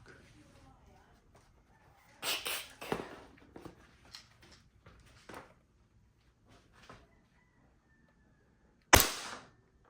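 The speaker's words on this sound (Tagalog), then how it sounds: "So, test natin tong Army Armament STI Staccato Executive Silver." An Army Armament R609 STI Executive Silver airsoft pistol fires several sharp snapping shots spaced across the moment, with one especially loud crack near the end and quiet gaps between.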